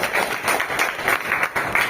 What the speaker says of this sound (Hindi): आप सब तालियों से इनका स्वागत करें।